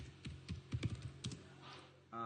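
Fingers type on a computer keyboard, a quick run of close, irregular key clicks with short pauses, followed by a brief tonal sound at the end.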